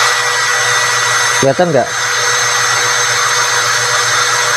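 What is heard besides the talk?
Kyoal cordless drill running at low speed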